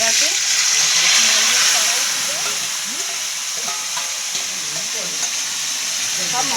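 Marinated chicken pieces for a chicken curry sizzle and fry steadily in hot oil, a continuous loud hiss with stirring scrapes, while voices talk faintly in the background.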